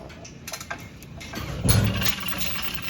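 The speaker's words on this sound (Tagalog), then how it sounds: "Makina ng Mia." Engine of a machine at a drainage pipe work site runs in a steady mid-pitched hum under clicks and knocks, and grows louder partway through.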